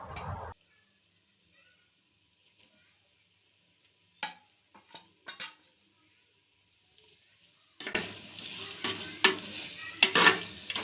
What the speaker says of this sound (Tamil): இப்போ மட்டனோட சேர்ந்து புதினா மல்லி நல்லா வதங்கி வரட்டும்.